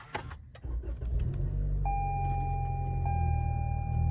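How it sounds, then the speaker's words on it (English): A 2021 Toyota Camry XSE engine starting: brief starter crank, then a steady close idle with a sustained chime tone running over it. "Let's do a start on this Camry."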